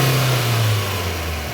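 Engine of a Suzuki Cultus EFI car revving as the accelerator is pressed, a loud close steady drone whose pitch dips slightly over a second and a half, with no talk.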